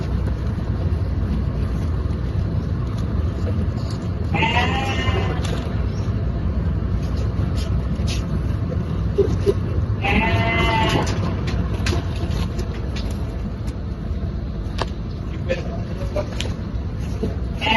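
Sheep on a livestock farm bleat twice, a few seconds apart, over steady wind noise on the microphone.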